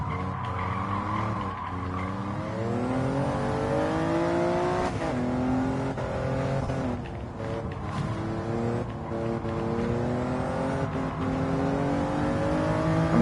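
A race car in Gran Turismo 7 that oversteers badly roars at high revs, its engine pitch rising and falling through gear shifts while tires squeal and skid, sounding loud, continuous and close throughout.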